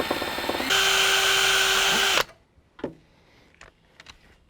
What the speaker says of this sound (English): And I'll start out making a small pilot hole.